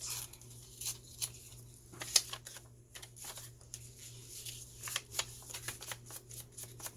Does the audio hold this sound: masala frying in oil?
no